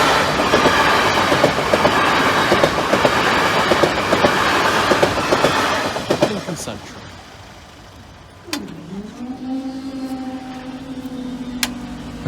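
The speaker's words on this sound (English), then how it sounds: "Train's approaching." Train unit 800 210 rumbles loudly over Boultham level crossing with rhythmic clatter of wheels, then fades, followed by a quieter engine hum and a rising tone of a vehicle nearby.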